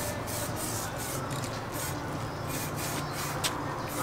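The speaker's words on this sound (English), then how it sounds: "Spray painting some shit." Aerosol spray paint hisses from a can in short repeated bursts, a steady rushing noise broken by brief pulses and spurts, close to the microphone with no talking.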